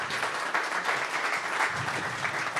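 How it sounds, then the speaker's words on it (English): An audience at a pub talk applauds, a dense steady patter of many hands clapping for a few seconds with no one speaking. "Round of applause."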